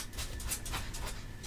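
Dogs pant in quick, breathy rhythmic bursts, close and fairly quiet, with no voices.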